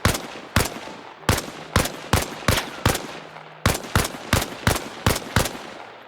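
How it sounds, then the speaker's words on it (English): Rapid, loud gunshots from a weapon in the video game ARMA Reforger ring out in two clusters of sharp cracks, a short pause splitting them, each report close and punchy with a brief tail. "If I shoot,"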